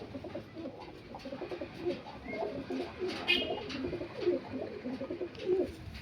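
Female Mirabwala pigeons coo over and over in a steady, busy stream of low throaty calls from close by, with overlapping birds and no talking.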